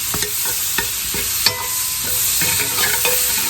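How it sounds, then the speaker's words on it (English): Cubed butter melting in a hot pan, giving a steady loud sizzle with repeated scraping and stirring strokes over it, close up and without talk. "I'm gonna go in with about a half a stick of butter here. I've got it in cubes because it'll melt faster."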